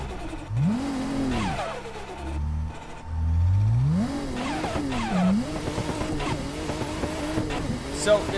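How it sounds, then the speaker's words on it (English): A drift car on Mt. Akina revs its engine in rising and falling sweeps while the tires squeal through slides, loud and close, with a voice speaking over it. "Today, we're going to be going full send drift attack here on Mount Akina in this car"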